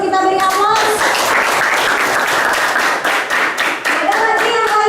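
Junior high students in a classroom burst into loud, rapid group clapping for a classmate's answer, a continuous patter of many hands lasting several seconds, with a voice speaking briefly at the start and end.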